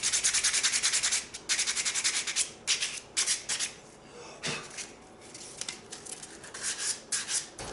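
Coarse 80-grit sandpaper rubs steadily back and forth over a lacquered Brazilian rosewood handle from a Stanley hand plane, a close, loud rasping in rhythmic strokes with brief pauses between runs.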